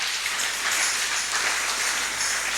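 A church congregation applauds in a dense, steady wash of clapping that holds at an even level throughout, with no voices rising above it.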